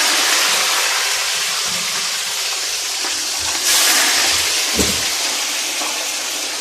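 Chicken pieces frying in hot oil, a loud, steady close-up sizzle and hiss that swells briefly partway through, with a soft thump, no voices.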